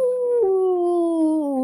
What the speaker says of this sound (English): Growl!